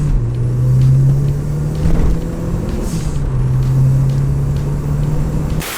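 Renault Super 5 GT Turbo accelerating flat out from a standstill, a loud, steady engine drone rising through the gears with brief dips at each shift, close by and with no talking.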